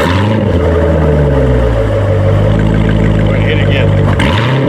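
A 2017 Corvette's V8 exhaust revs hard and loud up close, a deep steady roar climbing and falling once before settling again, with voices talking over it.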